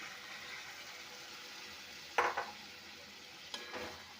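Potatoes frying in rendered mutton fat hiss steadily, then water poured in sets off two sharp bursts of sizzle, the first louder, the second a little later and softer.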